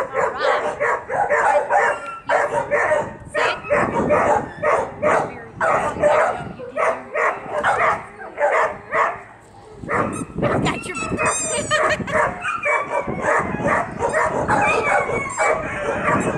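A Flat-coated Retriever barks, yips and whimpers loudly and close by in a steady run of rapid bursts, with a person's voice talking over it at times.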